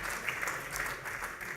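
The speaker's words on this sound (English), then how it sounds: "round of applause" A round of applause for an award nominee at a press association ceremony, heard as a short burst of moderate, distant-sounding clapping from a seated audience, fairly even throughout with no speech over it.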